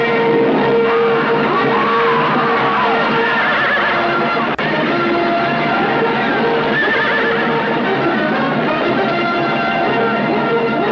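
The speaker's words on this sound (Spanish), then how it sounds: "Ahora descabalgad y que salgan solos los caballos." Several horses neigh and whinny as they are let loose without riders, with clip-clopping hooves beneath, loud and continuous in a busy scene from a 1951 film soundtrack.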